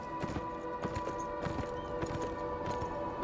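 Horse hooves clip-clopping on ground in the video game Beyond Two Souls, an irregular run of close hoof strikes over steady ambient game music and environment tones.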